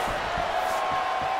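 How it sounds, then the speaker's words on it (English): Crowd murmur and swelling reactions from a virtual arena audience in EA Sports UFC 4 during a fight, a steady wash of noise with soft low thuds pulsing underneath. "you hear the crowd react every time they come together"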